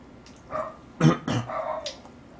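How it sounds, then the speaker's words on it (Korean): A puppy whimpers and lets out a few short, sharp barks and yips close by, in uneven bursts, over a low room hiss with no speech. "강아지가 있네."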